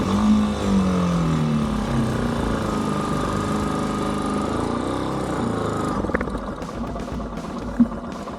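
A small motorcycle revs hard while stuck in a muddy swamp on a rough road, its engine droning loud and steady with rising and falling pitch, then dropping to a rougher sputter near the end.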